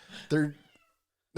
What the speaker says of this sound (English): my kitten needs so much attention